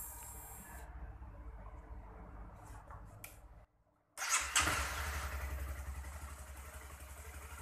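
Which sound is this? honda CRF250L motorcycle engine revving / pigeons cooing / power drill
honda CRF250L motorcycle engine revving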